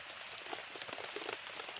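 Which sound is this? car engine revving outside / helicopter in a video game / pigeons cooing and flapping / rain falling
rain falling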